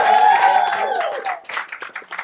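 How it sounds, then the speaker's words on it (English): A live audience applauds at a talk revisiting Full Circle, clapping that starts amid a lingering voice with tonal ringing and then breaks into scattered, uneven handclaps near the listener. "Give yourself a round of applause."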